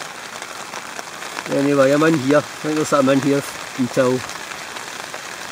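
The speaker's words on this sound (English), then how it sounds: "Hopefully the rain will stop." Rain falls steadily on a tent at a summit camp on Beinn na Lap, a constant patter running throughout as someone talks over it in the middle of the clip.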